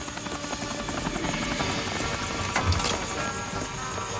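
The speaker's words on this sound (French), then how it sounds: "L'hélicoptère!" A helicopter's rotor chops rapidly and steadily overhead, loud and continuous with a buzzing engine whine.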